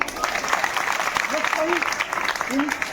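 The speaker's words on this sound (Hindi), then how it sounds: "इनके लिए ताली हो जाओ" Schoolgirls clapping at a girls' college event in Bijnor, Uttar Pradesh, a steady patter of applause running throughout, with a few voices calling out over it.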